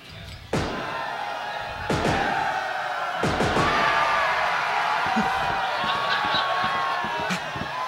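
Arena crowd noise swells under heavy slams and thuds from a wrestling video game, several loud impacts spread through the stretch, with a voice talking over the roar.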